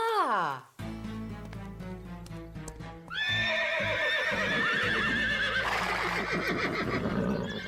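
Agitated cartoon horses neigh and whinny loudly, one shrill whinny followed by a longer overlapping chorus of neighs, with hoof clip-clops underneath.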